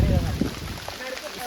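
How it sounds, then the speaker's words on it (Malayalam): Rain falling at Maruthumkadu during the monsoon, a dense steady patter hissing across the whole clip, with heavier rumbling low noise at the start; close and continuous, with no voices. "കോട കോടയല്ല, മഴ വീണാണ്"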